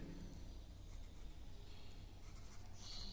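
Pen scratching across paper in a classroom workbook lesson, a steady soft scraping continuing throughout at low level with no talk.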